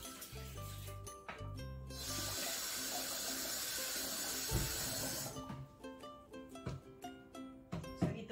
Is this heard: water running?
yes